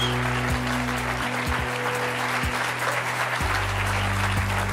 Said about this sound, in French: je vous demande d'applaudir très chaleureusement nos deux premiers invités